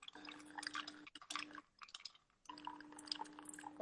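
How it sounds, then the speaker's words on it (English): Bartender stirring a champagne cocktail with a little spoon in a glass: quiet, soft liquid swirling and faint tinkling, steady over a low hum with a brief lull midway. "Let's stir it together"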